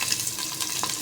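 Garlic and onion frying in a pan, a close steady hiss and crackle of sizzling throughout a short moment.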